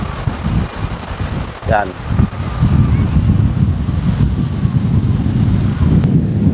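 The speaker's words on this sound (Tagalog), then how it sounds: "guys yung malakas na hangin, dala ng hangin amihan" Strong amihan monsoon wind at Bulabog beach on the back side of Boracay roars steadily across the microphone, a dense rushing noise under a voice speaking throughout.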